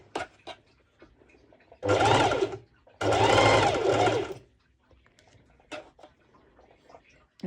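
Sewing machine stitching fabric at its longest stitch length, two close bursts of rapid mechanical whirring about a second and a half each, with soft clicks and handling noises around them.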